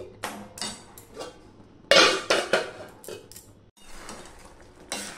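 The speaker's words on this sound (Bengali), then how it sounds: "আমি আবার একটু ঢাকা দিয়ে দিচ্ছি" A lid is set on a pot of tomato chutney with raisins and cashews, several close metallic clanks and scrapes in an irregular sequence, with one loud clatter midway and quieter rattles around it.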